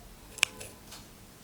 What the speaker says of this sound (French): je prends les ciseaux et je coupe